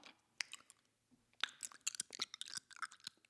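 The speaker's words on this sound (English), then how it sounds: "Get away from the mic while I chew my ice up." Ice cubes crunched between teeth right at the microphone, a string of sharp, close crackling bites and grinding chews over about three seconds, loud and up front with no talking.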